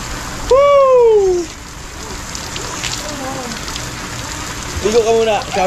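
A swimming pool shower runs with a constant hiss of falling water while people talk and call out over the spray.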